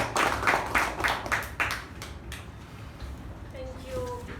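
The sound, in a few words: applause for a meeting role taker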